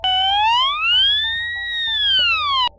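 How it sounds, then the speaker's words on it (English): A loud electronic crash alarm on a ship's helicopter deck sweeps up and down in pitch, a steady wailing tone that cuts off abruptly at the end. "crash alarm"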